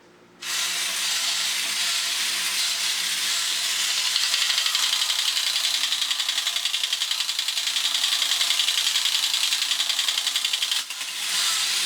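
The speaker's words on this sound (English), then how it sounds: "And there you have the action. Walking, rotating guns, clattering lights, a whole ball of wax." A repaired vintage Rotate-o-Matic Super Astronaut toy robot runs its walking and gun-rotating action with a continuous buzzing, rattling mechanical whir, close and steady for about ten seconds before cutting off.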